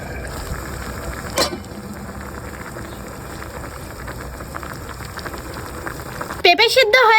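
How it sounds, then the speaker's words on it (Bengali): Raw papaya pieces boil in a lightly salted covered pot, a steady close bubbling simmer with a sharp clink partway through, ending in a brief burst of noisy clatter. "বন্ধুরা এবার পেঁপেটা ভালোভাবে সিদ্ধ করে নিতে হবে"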